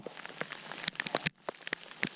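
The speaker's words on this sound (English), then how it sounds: "this is picking up even more. Same size hail." Hail falling during a storm on a mountain hike in the Maroon Bells-Snowmass Wilderness, a dense steady rattle of icy pellets striking nearby surfaces with sharp louder hits, a brief lull, then the pelting resumes.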